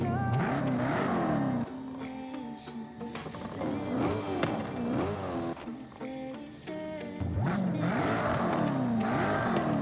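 A Jaguar XKR-S GT in Forza Horizon 5, fitted with a supercharger and cams on its stock exhaust, revs repeatedly, its engine note climbing and dropping in loud close sweeps with a short lull partway through.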